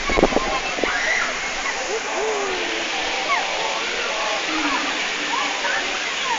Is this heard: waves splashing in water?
yes